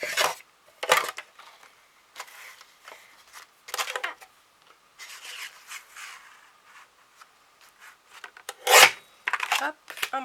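Material being cut by hand with a blade or saw, coming in short rasping strokes in uneven bursts separated by quiet pauses, close and moderately loud.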